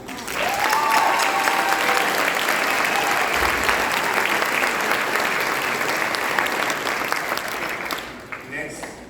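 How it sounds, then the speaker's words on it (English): Audience at a high school band concert applauds loudly and steadily for about eight seconds, the dense clapping filling the hall before tapering off abruptly at the end. "So round of applause for that."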